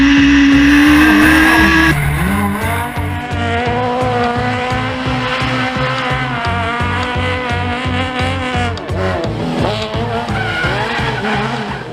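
A heavily modified drift car, a KTM RC 390 build with a modified cooling system, skids continuously with loud sustained tire squeal over a roaring, revving engine, close and intense for the whole stretch.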